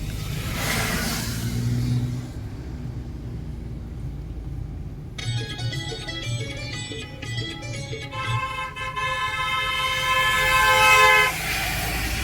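A Junnar–Mumbai bus rumbles along the road at Malshej Ghat in monsoon season and sounds its horn in long, loud blasts, the honking growing stronger toward the end.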